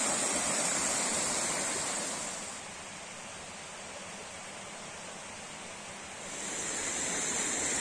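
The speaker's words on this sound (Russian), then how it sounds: "А вот и четвертый водопад." The fourth Yauzlar waterfall near Yalta in January, with low flow, rushes as a steady broadband roar of falling water, loud and continuous, dipping somewhat in the middle before swelling again, with no voices.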